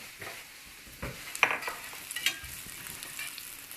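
A bacon steak frying in a pan gives a soft, steady sizzle with a few sharper crackles and stirring or utensil clicks, fairly quiet and close, with no talk.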